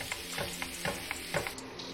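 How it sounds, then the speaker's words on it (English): Hamburger patties fry in butter over a lowered flame, a steady soft sizzle with light crackles and a few scraping stirs from a spatula. "Now that the beef is cooking"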